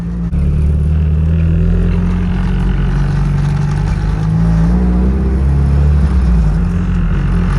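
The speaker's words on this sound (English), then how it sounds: "Miata was cranking healthy" Mazda Miata engine running loud and close on a test drive, a steady deep rumble with a slight rise in pitch midway, no talk over it.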